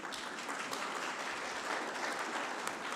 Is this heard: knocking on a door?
no